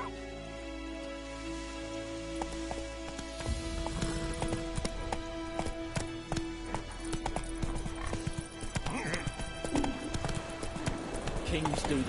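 Roach, the horse in The Witcher 3, gallops with a steady rapid clip-clop of hooves and occasional whinnies over continuous game music and ambience, while a voice speaks over it.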